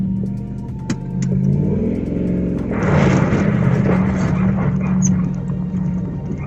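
A V8-swapped Toyota Hilux pulling away uphill on a steep mountain pass, with a low idle rising into a loud, rough revving roar as the clutch takes up, then sustained engine strain close by.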